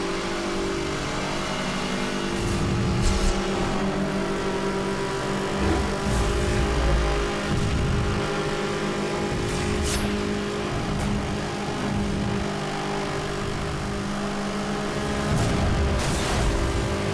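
A heavy, boat-like car races in Need for Speed Hot Pursuit, its engine droning and revving continuously with surges of acceleration and occasional sharp whooshes over the steady roar.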